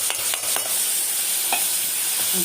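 Ginger garlic paste sautés with prawns in a hot pan for prawn biryani, a continuous bright sizzle close by, with a few spoon scrapes and taps as it is stirred and no voices.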